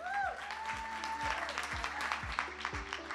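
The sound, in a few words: audience applause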